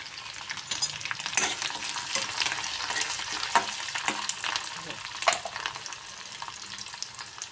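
Chopped chili, ginger, garlic and curry leaves crackle and sizzle in a hot pan, with stirring scrapes and sharp spattering pops throughout, close and fairly loud.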